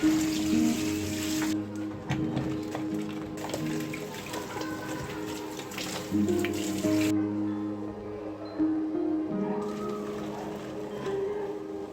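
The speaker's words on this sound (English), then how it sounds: "I always run them through cold water to avoid more cooking" Running cold tap water splashing and trickling over boiled greens in a sink, with the flow cutting off and starting again twice.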